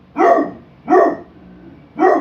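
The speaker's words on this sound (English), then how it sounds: "There's another dog walking by." A dog barks at another dog passing by, giving three loud, close barks spaced about a second apart with quiet gaps between them.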